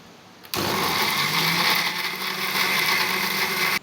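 A kitchen blender grinds garlic, chopped ginger and onion into a paste. It kicks on abruptly with a loud, steady whirring roar, holds level for about three seconds, then cuts off.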